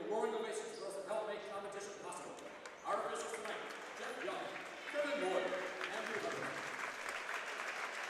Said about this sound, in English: Nice standing ovation from the crowd.